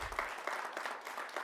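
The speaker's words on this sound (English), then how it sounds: "yes, you can applaud that." Audience applauding inside a city council chamber, a steady wash of many hands clapping at moderate distance, fairly soft and continuous throughout.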